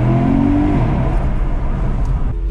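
A 430-horsepower Porsche Panamera GTS revved in neutral: a brief tonal engine note gives way to a loud, rough exhaust roar that settles into a steady rumble, close by with no talking.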